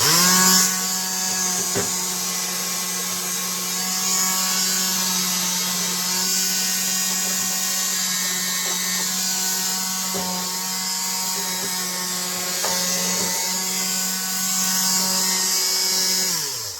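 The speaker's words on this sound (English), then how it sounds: "I need to use a sander" A steady, loud electric sander works on a model railway hillside embankment, whirring continuously with a high mechanical whine, running without pause for the whole stretch, with a few faint knocks along the way.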